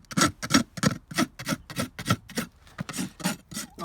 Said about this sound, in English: Normally I just rasp them off.